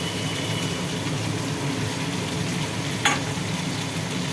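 Tomato and spice masala sizzles steadily in a pan with cumin paste while khichuri is being cooked, a continuous even frying hiss with one brief clatter near the end and no voices.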